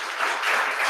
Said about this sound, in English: give a big round of applause to Michaël